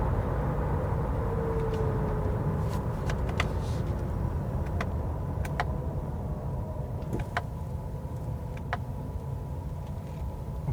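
A 2020 Honda CR-V Hybrid Touring AWD with a 2-litre Atkinson cycle engine drives along, heard from inside the cabin as a steady low road and engine hum, with occasional faint clicks and ticks.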